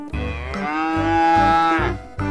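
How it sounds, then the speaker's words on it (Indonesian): A large, fat cow being loaded onto a truck gives one long, loud, close moo that swells and holds for nearly two seconds, then breaks off, with a short start of another call at the very end. "Widi widi widi, ada sapi lagi teman-teman."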